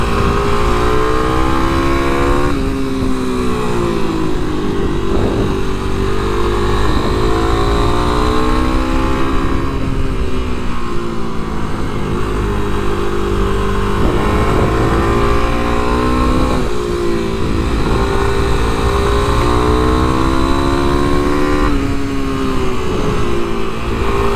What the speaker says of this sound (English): you can hear the bike. You definitely got to keep those RPMs up.